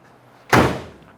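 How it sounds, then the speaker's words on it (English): A 1966 Ford Mustang convertible's door shutting: one solid, close thunk with a short decaying resonance, alone in a quiet setting. "Door shuts nicely."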